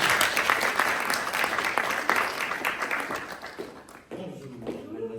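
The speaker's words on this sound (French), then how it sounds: "merci d'applaudir l'éternelle Mademoiselle Molière" A theatre audience applauds with dense, sustained clapping that fades out after about four seconds, followed by a voice speaking.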